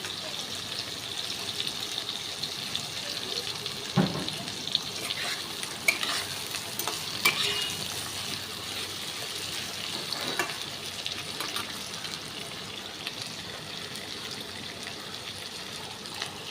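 Small eggplant pieces fry in a pan with a steady, soft sizzle, broken by occasional light stirring scrapes, close by and fairly quiet.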